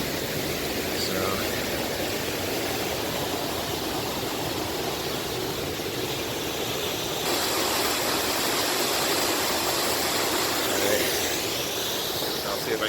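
Steady roar of a waterfall in Colorado's San Juan Mountains, loud and continuous broadband rushing water filling the whole clip with no other sounds standing out.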